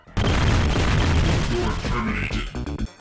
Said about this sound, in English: I'll throw a bucket full of grenades at him so he loses his skin